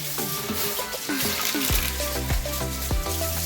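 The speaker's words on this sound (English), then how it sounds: "First, wash off your knife, because I don't want no vegetables to have onions on it." A kitchen knife is rinsed under a running tap, water splashing and gurgling with changing pitch as the blade moves through the stream, close and steady, with faint sizzling in the background.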